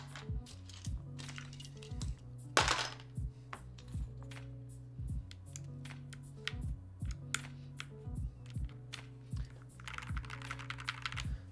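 Typing on an NK65EE mechanical keyboard fitted with Gateron Ink switches and PBT keycaps, a steady stream of close, crisp keystrokes with uneven rhythm and occasional heavier clacks, over a faint low background hum.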